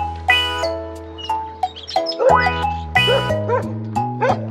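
Cartoon dog barks in a children's nursery rhyme song about a farmer's dog, several short yips spaced through the clip over bouncy music and synth tones.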